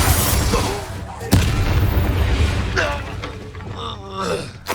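Spell blasts in Hogwarts Legacy on PS5, a loud booming explosion near the start and another heavy thud partway through, amid dense rumbling game effects while a voice calls out spell names.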